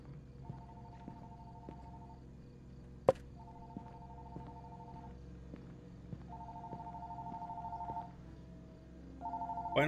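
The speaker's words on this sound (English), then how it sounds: "Uh-oh, phone ringing." A telephone rings inside a quiet house in the game Fears to Fathom: Woodbury Getaway, repeating steady trilling rings with short pauses between them, fairly faint, with a sharp click partway through and louder noise at the end.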